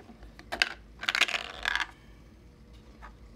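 Wyrmwood Kickstarter dice roll and clatter across a hard surface in several quick bursts of sharp, rattling clicks, then settle with a faint final tap.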